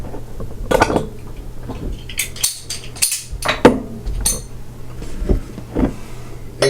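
A bottle of Lagunitas Phase Change IPA is opened and poured into a glass, with clinks of glass and sharp knocks scattered through the handling, each followed by brief hissing bursts, close and alone with no talk.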